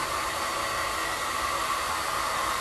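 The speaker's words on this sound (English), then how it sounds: "I'm just drying this off." A hair dryer blows steadily and close for a few seconds, drying a crafted piece with an even, loud rushing hiss and no voices.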